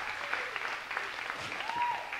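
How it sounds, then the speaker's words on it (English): Comedy club audience at Brewskies applauding the bar staff, a brief patter of clapping from a modest crowd with a faint voice murmuring underneath. "Round of applause for the staff here at Brewskies"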